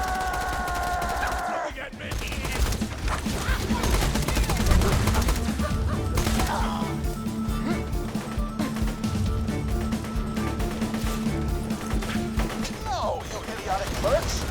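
Dense, rapid gunfire in Borderlands 2 fills a game battle against the Ravenous Wattle Gobbler, with sustained automatic bursts, crashes and impacts layered over in-game voices.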